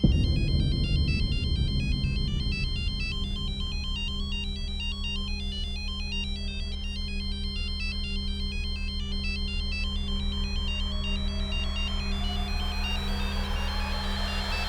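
An electronic phone ringtone plays a repeating melodic pattern continuously, loud and steady with no voices over it.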